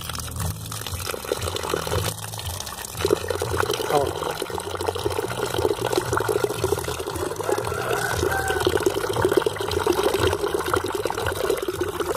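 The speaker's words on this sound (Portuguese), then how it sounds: "Quando você botar água aqui, ó, botar um pouco d'água, você vai ver o que vai acontecer." Water poured from a container onto ground corn cobs, a continuous splashing, trickling pour under someone talking nearby.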